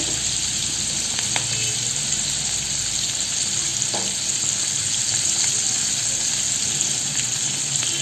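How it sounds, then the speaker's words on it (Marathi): Bangda mackerel fish fry in a pan over low heat, giving a steady, close hiss and crackle of oil that holds evenly throughout without pause. "आता आपले एक बाजूने मासे छान तळून झालेले आहेत."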